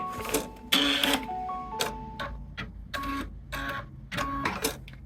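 A home embroidery machine stitches a placement line for a Kimberbell nativity bench pillow in a small 5x7 hoop, giving a close, loud run of rapid mechanical needle bursts separated by brief pauses, with no talking.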